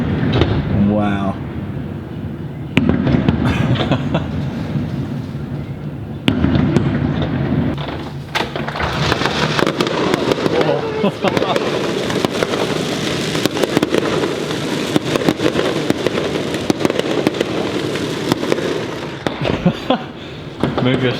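Fireworks burst just outside an apartment in a run of loud, sharp booms over about twenty seconds, with steady crackling and rumbling between the blasts and people talking now and then.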